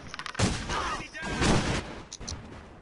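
A Thompson M1921 submachine gun fires in the online shooter AVA, with two loud bursts close together followed by quieter scattered shots and background game noise.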